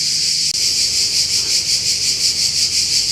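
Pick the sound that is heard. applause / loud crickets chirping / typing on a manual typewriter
loud crickets chirping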